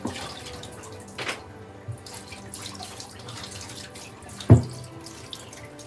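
Tap water runs into a sink while store-bought yellowtail is rinsed, a low steady splashing with small drips and one sharp knock near the end, moderately quiet and close.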